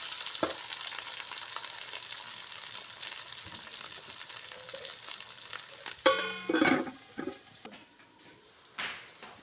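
Okra for bhindi masala fries in a pan with a moderate, steady sizzle, then a few clanks of a spatula or lid on the pan near the end, with no speech.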